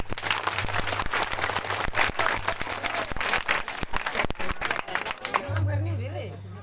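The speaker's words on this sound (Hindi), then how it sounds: "आप लोग ताली बजा दीजिए" A crowd applauds loudly and continuously at an Independence Day event, dense clapping that holds steady before a voice comes in near the end.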